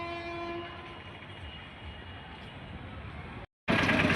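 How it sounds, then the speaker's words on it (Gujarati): Train at Dwarka railway station, with a sustained steady rumble and a held horn-like tone near the start, then a sudden brief cut before a louder burst of noise at the end; no talking. "તો ફાઇનલી હવે અમે પહોંચી ગયા દ્વારકા રેલવે સ્ટેશને"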